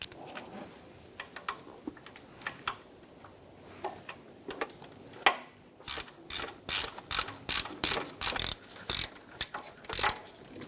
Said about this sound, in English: Now we're gently going to snug these bolts down.